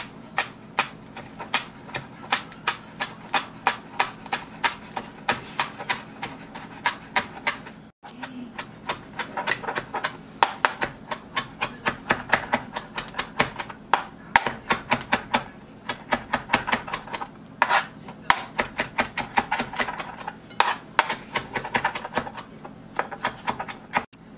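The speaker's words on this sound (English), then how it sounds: "now I'm just going to finely mince that and add it to the meat" A knife finely mincing shadow benny leaves on a cutting board: fast, steady, close tapping chops in long runs, with one brief pause, and no talking.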